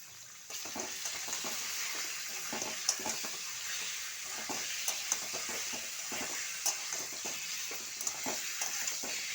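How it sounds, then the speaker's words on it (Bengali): Chicken pieces cut small like chili chicken fry with onions in a pan. A steady, close sizzle runs throughout, with frequent light scraping and stirring clicks on top. "এরপর আমি এইগুলো পেঁয়াজের সাথে একটু ভেজে নেব।"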